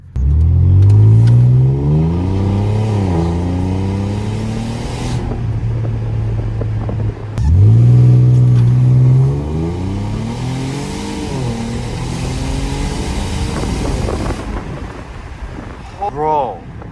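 A 2012 Ford Taurus SHO with a broken exhaust revs hard and loud up close, its engine note climbing and falling in repeated sweeps, then settling to a rough idle with brief blips near the end.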